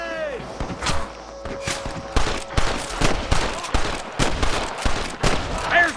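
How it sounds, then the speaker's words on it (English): Gunfire in the Red Dead Redemption video game: repeated sharp gunshots crack in irregular bursts over several seconds, some close and loud, others more distant, with shouting and game sounds mixed in. "I can hear more gunshots."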